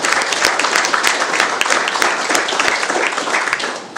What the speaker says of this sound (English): please give a round of applause and appreciation to these fine folks